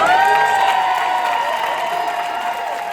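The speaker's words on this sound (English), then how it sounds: "Please give a big round of applause for Nancy" A film premiere crowd applauds and cheers a producer, with loud, sustained clapping mixed with whoops and high shouts that fade slightly toward the end.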